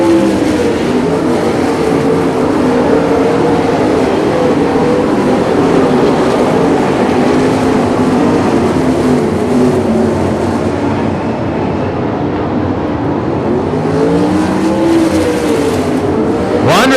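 Race cars speed down the backstretch of an oval, a loud, steady wash of engine roar that carries unbroken for the whole stretch, with a brief rise in pitch near the end.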